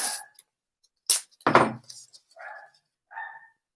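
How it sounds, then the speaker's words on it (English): A few short, high yips and barks from small dogs, scattered and fairly faint, with quiet gaps between them. "Oh, those puppies."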